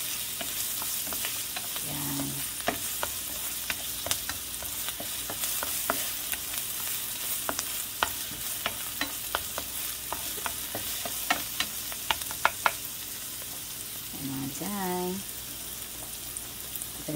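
Garlic fries in a little oil in a pan, a steady soft sizzle with scattered crackles and pops, stirred now and then, with two short tonal chirps partway through.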